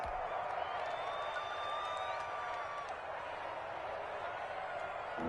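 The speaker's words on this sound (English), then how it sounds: "Here comes a big one as this crowd gets up making some noise" Football stadium crowd at a Colts game with roaring, sustained cheering and noise late in the fourth quarter, a broad steady wall of sound with a faint whistle-like tone rising briefly above it.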